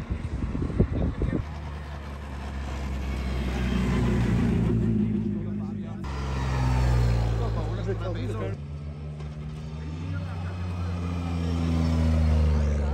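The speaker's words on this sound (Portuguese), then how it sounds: "Os carros da WRC chegam, que é logo aqui atrás." WRC rally cars arrive at the finish area of the 2023 rally in Germany, their engines rising and falling in long swells as they pass nearby, with a crowd and spoken commentary over the top.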